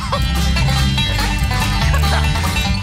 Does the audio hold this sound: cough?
no